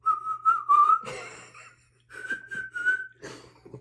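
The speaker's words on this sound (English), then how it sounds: "I have terrible whistling skills." A person whistles a short melodic tune close by, two phrases separated by a brief pause with some shuffling noise between them.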